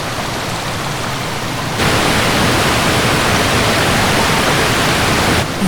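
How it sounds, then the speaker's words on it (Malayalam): A powerful waterfall roars with dense, unbroken hiss and rumble, loud and close, swelling slightly louder after the first couple of seconds and holding steady. "എന്തൊരു ഭയങ്കര വെള്ളച്ചാട്ടമാണ്."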